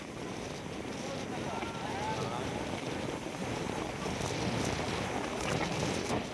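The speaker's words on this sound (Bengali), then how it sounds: "চায়ের কাপ পুরো উড়িয়ে দেবে, এতটাই হাওয়া" Strong sea wind buffets the microphone on a beach, a loud continuous roar and rumble with surf blended underneath, steady for the whole stretch.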